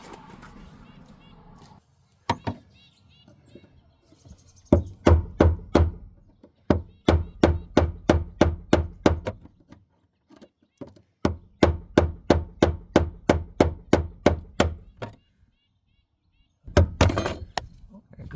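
Sharp metallic knocks strike the fuel pump lock ring tab of a VW Jetta to turn it, coming in quick rhythmic bursts of a dozen or so blows separated by short pauses, loud and close.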